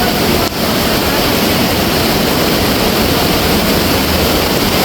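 Rain falling over the Iruvanjippuzha river in flash flood, its rushing floodwater a loud, steady, broadband roar that fills the whole stretch without a break.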